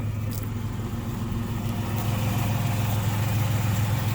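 A Dodge Charger engine idles smoothly and evenly up close, a steady low hum with no tapping or knocking and no voices.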